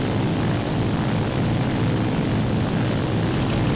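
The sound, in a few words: propeller plane engine in video game ArmA 3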